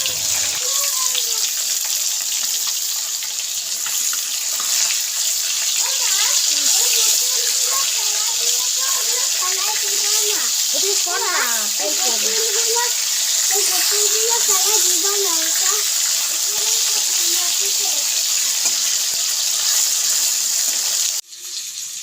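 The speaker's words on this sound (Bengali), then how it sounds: "শাক ধুয়ে নিয়েছি" Tap water runs steadily while leafy greens are washed in a home kitchen, a continuous close gush with faint clinks and splashes, ending abruptly near the finish.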